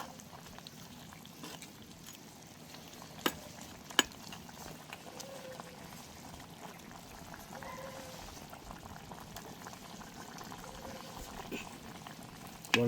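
Pork curry with water and ghee simmers at a rolling boil in a pot while being stirred, giving a steady close bubbling and faint liquid churning with a few sharp spoon taps against the pot.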